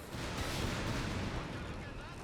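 Artillery barrage in the real-time strategy game Company of Heroes 3, a dense continuous rumble of booming shell impacts and blasts, loud and sustained for a couple of seconds.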